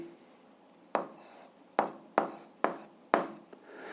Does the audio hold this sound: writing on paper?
yes